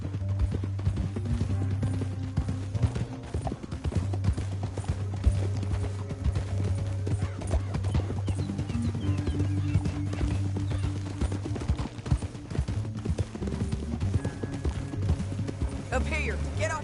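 Galloping horses in the Red Dead Redemption 2 video game: a fast, steady clip-clop of hooves with occasional whinnies, running continuously under a loud musical score.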